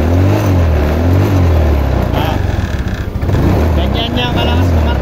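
Yamaha Mio motor scooter engine revving hard and continuously close by, a steady loud drone that swells and dips in pitch, with a voice speaking over it.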